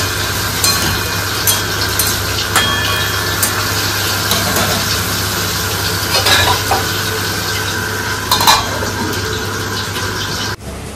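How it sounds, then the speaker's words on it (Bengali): Fish pieces rubbed with salt and turmeric sizzle in a home kitchen pan, a steady close crackling hiss with occasional sharper spits and stirring clinks, and no talking. "মাছগুলো ভাজা হয়ে এসেছে।"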